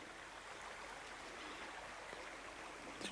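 A small river flows with a steady, close rushing and babbling wash of water, constant and even with no voices.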